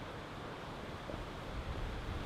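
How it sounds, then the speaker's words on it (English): Strong wind blows outdoors in the Budawangs bush at dawn, a steady broadband roar buffeting the microphone with occasional low gusts, no voices present. "Part of me feels like it's just so windy"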